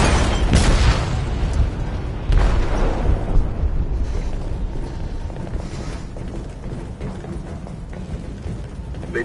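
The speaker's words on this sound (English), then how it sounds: "They detonated an explosive in the hold." A ship-hold explosion from the video game Detroit Become Human hits as a loud deep boom, then a long rumbling roar of debris and groaning metal that slowly fades.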